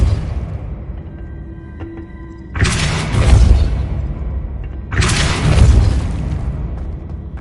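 Two spell blasts from the Hogwarts Legacy video game, each a sudden loud burst of force with a rushing whoosh that booms and fades over about two seconds, separated by a quiet ambient stretch.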